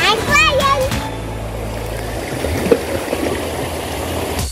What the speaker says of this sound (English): He doesn't like the sounds of the water it's splashing.